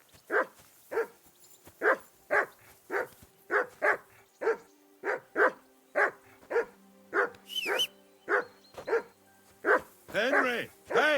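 A dog in the medieval video game Kingdom Come: Deliverance II barks steadily, about a dozen and a half evenly spaced, sharp barks, close and loud, with a brief squeaky sound and a rougher yelp near the end.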